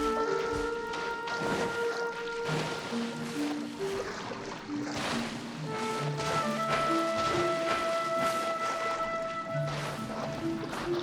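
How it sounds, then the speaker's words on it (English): Rain pours down in the Genshin Impact game world, a steady hissing wash with splashing water beneath a layered musical score that runs throughout. "All the water that used to be here has turned into rain!"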